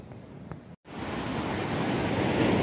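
Sea waves wash against the shore at a fishing spot, a broad roaring surf that swells steadily louder after a brief dropout, with wind buffeting the microphone and no voices.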